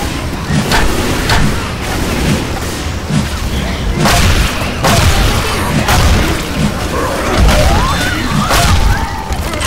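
A Molotov bursts into fire during a zombie fight in Left 4 Dead 2, with loud repeated booms, crashes and gunfire packed into a constant, chaotic roar of close combat.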